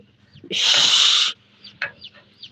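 Newly hatched quail chicks giving faint, high cheeps close by, broken by a loud rushing hiss lasting nearly a second.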